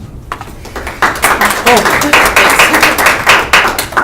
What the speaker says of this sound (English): Wow, you're clapping already.